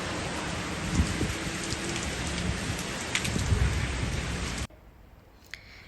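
Heavy rain pours in a dense, steady hiss with low rumbles of thunder, then stops abruptly, leaving near quiet with a faint tap.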